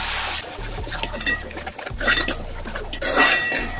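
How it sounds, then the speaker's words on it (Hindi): Metal utensil clinking and scraping in a pan as tomato puree is stirred into browned onions, a run of close, busy clatters and taps lasting the whole moment. "अब हम इसमें अपनी टमाटर प्यूरी डालेंगे, इसको अच्छे से मिक्स कर लेंगे।"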